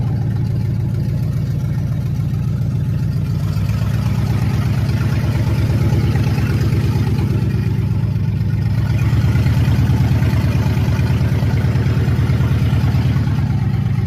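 An automatic pickup truck with a worn exhaust idles loudly and steadily nearby, a deep, rapid pulsing rumble holding throughout with no voices over it.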